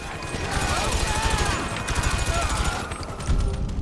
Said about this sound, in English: Advanced rifle